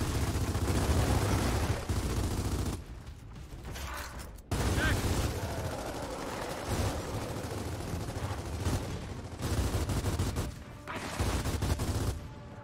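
Rapid bursts of gunfire from Gears of War 4, loud and dense in stretches with brief lulls, mixed with mechanical clanks and other game noise.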